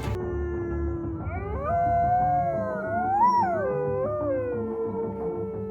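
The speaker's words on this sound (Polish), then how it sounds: "Zwierzęta te wyją, warczą, mlaszczą, piszczą, ryczą, skomlą i szczekają." Wolves howl close by, several long rising and falling wails overlapping and sliding in pitch, clear and fairly loud with no talking.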